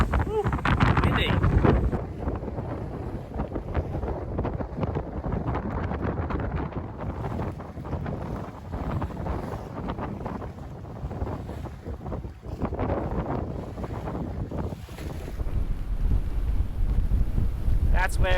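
Strong wind on a clifftop edge, sustained around 35 knots with gusts to 50, roars and buffets the microphone throughout, with gusts swelling louder at the start and end.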